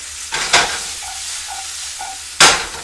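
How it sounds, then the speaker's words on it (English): Asparagus spears stirred in a hot pan, a steady sizzle with a few louder scraping stirs at the start and end, close up with no talking. "Keep stirring those asparagus, because they will burn."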